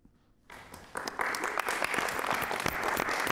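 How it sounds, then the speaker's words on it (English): Applause in an FMV video game starts abruptly after a brief quiet moment and builds into steady clapping from a small audience, moderately loud and continuous to the end. "they're clapping for us."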